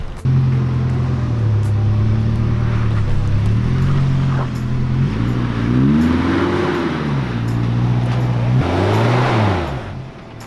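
A 4WD Toyota Surf engine labours and revs as the truck climbs over rocks on a track, loud and close, with the pitch rising and falling in repeated surges of strain.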